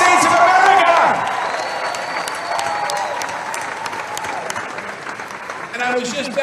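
Crowd applause at a Labor Day rally in Milwaukee, loud dense clapping with a few whoops that starts strong and gradually thins, while someone speaks over it near the end.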